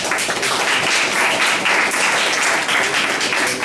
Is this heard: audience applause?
yes